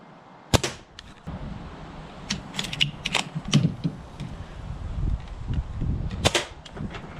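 An airsoft bolt-action sniper rifle has its bolt cycled, pushed back, up and down, giving several sharp metallic clicks and clacks spread unevenly across a quiet room with faint handling noise.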